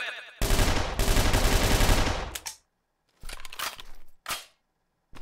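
Automatic gunfire in the Unity shooter game Red Crucible: Firestorm, a loud sustained burst followed by shorter bursts separated by brief silences.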